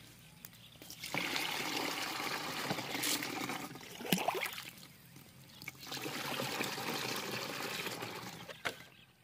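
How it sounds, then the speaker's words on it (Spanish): Water pours steadily into the tank of a backpack pump sprayer outdoors on farmland, a continuous gurgling splash that swells and fades, close by with a few knocks against the container. "Voy a cargar ahorita la bomba con agua"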